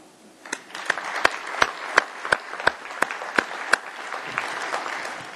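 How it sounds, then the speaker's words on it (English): Conference audience at a general session gives a round of applause, a crowd clapping steadily with several sharp, prominent claps standing out near the microphone over a softer wash of hands. "I think we owe ourselves a round of applause"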